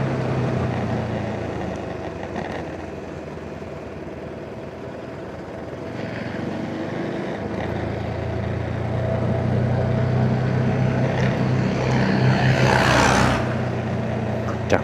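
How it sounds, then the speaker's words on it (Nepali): Tractors driving through the Pheme Khola river give a steady, low diesel engine rumble that runs throughout, growing louder and closer toward the end with a brief surge of rushing, splashing noise near the close. "ट्र्याक्टरहरू हिँडिरहेछन् खोलाबाट"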